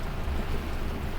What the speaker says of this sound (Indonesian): Hujan gede banget ini ya teman-teman ya.